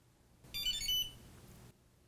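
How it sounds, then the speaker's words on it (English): A short series of high electronic beeps from a Velotric Discover 2 electric bike, chirping tones lasting about a second, faint against quiet background. "you should hear a beep"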